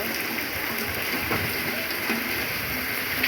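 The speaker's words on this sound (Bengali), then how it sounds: "এই দেখো চারিদিকে কি বৃষ্টি দেখো ওরে বাবা কি বৃষ্টি" Steady, dense heavy rain pouring down, a constant hiss with occasional louder patters, no talking.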